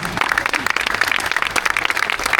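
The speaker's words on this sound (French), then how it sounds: "Est-ce qu'on peut applaudir encore une fois les bénévoles, s'il vous plaît?" An audience at a trail race in Sainte-Anne claps and applauds steadily for the volunteers, a dense patter of many hands close by for a couple of seconds.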